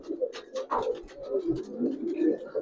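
Coloring pigeons coo continuously up close, low burbling calls overlapping one another with faint higher chirps and small rustles scattered through.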